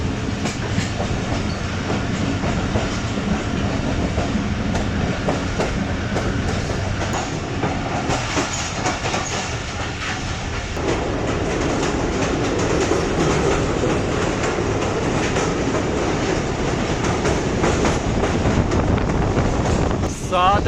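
The 44 Down Shah Hussain Express train rumbles past close by in Pakistan, a continuous roar of wheels on rails with rattling and wind noise throughout.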